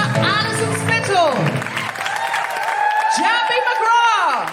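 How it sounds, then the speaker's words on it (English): A live audience at a comedy podcast show recorded at the Edinburgh Fringe claps and whoops, the applause ringing on behind the host's voice as shouts and cheers rise and fall. "Big round of applause for Alison Spittle"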